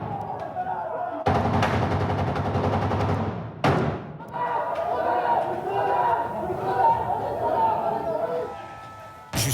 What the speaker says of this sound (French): D'abord, des grenades assourdissantes, puis des tirs en riposte.